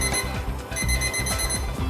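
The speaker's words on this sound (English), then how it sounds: "My timer has gone off." A kitchen timer alarm rings loudly and steadily in a home kitchen during cooking, a rapid repeating electronic beep pattern with no talk over it.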